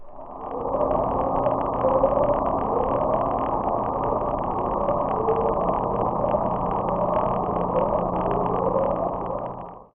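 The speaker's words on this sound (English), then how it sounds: "The sound is a series of upsweeping sounds that lasts for a few minutes." A continuous low rumbling drone with repeated rising sweeps, an ocean sound recorded by hydrophones, steady and noisy, lasting throughout with no voices.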